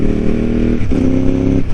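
A Ducati 748R motorcycle engine running steadily, then a brief dip and jump in pitch as it downshifts, with a loud, close mechanical drone and a faint clatter.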